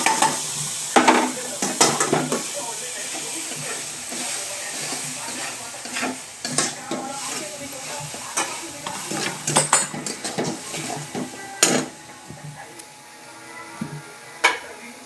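Tomato paste and spices sauté in a pan, a continuous sizzle punctuated by repeated scraping and tapping strokes of a spoon against the metal, irregular and close, with a few louder knocks.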